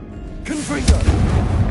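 A Confringo fire-blast spell cast in Hogwarts Legacy bursts out with a loud booming whoosh after a brief quiet lead-in, sustained rumbling energy filling the rest under a shouted incantation.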